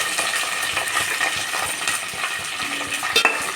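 Onions, green chilies and ginger frying in a pan for upma while a utensil stirs them, steady sizzling with repeated soft scraping strokes, close and moderately loud.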